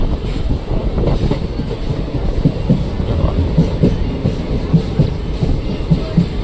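A train pulls into Junagadh station, a steady heavy rumble with rhythmic wheel clatter on the rails filling the whole stretch, no voices over it.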